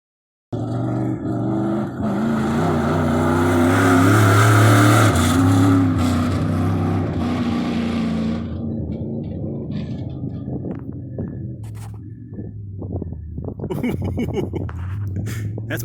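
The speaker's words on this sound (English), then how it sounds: "the 1S machine, making his first laps ever in a big race car" A big race car on its first-ever laps, engine roaring loud and close for several seconds with rising revs, then easing off into a lower, uneven drone as it pulls away, with faint voices underneath.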